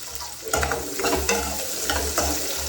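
Ginger and garlic frying in oil with a steady close sizzle and a few stirring scrapes in the pan; no talking.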